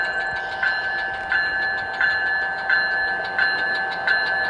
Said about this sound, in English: the job will come to a slow stop where it'll tie its train down for the night